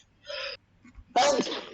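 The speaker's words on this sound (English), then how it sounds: "You've been sneezing" A person sneezes once, loud and close, a sharp burst following a brief inhaled gasp, set against a quiet room during an online gaming session.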